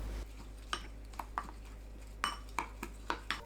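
A Korean seasoning sauce of chopped green onion, cheongyang chili, minced garlic, chili flakes, soy sauces, plum syrup, sesame oil and sesame salt is stirred in a bowl. A spoon clinks sharply against the dish in quick, uneven taps over a low steady hum.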